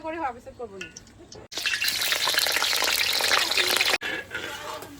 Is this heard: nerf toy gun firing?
no